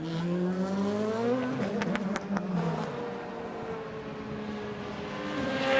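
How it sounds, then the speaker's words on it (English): A yellow Deutsche Post DTM touring car drives past during qualifying at Hockenheim, its engine note rising and then falling away over roughly six seconds, with a steady loud roar and some higher mechanical whine. "There's Glock in the yellow Deutsche Post car."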